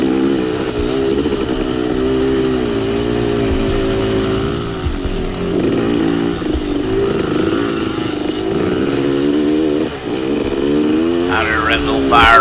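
A dirt bike racing along a cross-country trail onto a small motocross track, engine droning loud and close with shifting revs throughout, wind noise and possible rider chatter beneath.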